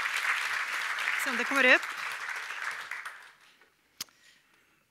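Audience applause for a speaker at a Swedish tech conference, dense clapping that swells, then fades out over a few seconds while someone talks over it and a single sharp knock sounds near the end.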